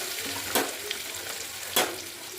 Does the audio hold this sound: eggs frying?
yes